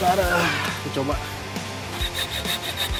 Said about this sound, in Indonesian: Kebetulan aku ada gergaji lipat ya, aku ingin cobain